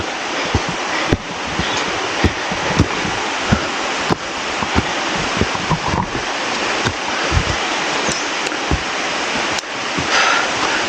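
Siriphum Waterfall on Doi Inthanon roars as a continuous broadband rush of falling water, loud and steady throughout, with occasional knocks and wind buffeting on the microphone.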